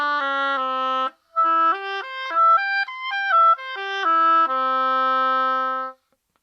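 Fully assembled oboe playing a clear, reedy melody of held notes climbing and falling in steps, close and solo, ending on a long sustained tone.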